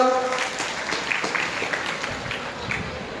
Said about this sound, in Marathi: जोराने टाळ्या वाजवून स्वागत करा.